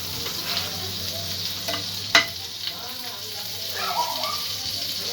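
A spoonful of butter and white oil heating in a frying pan gives off a steady soft sizzle and crackle, with one sharp utensil clink partway through.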